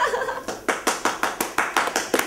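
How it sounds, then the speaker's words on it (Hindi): Rhythmic clapping from a small studio audience on a comedy stage show, about ten evenly spaced claps over two seconds, fairly close and clear with no talk over them. "तालियां भाई, तालियां तालियां तालियां।"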